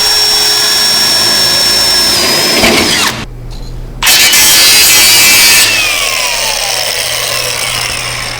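A power drill whines at high pitch as it bores into material, briefly stopping for about a second before grinding back in.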